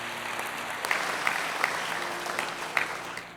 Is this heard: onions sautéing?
no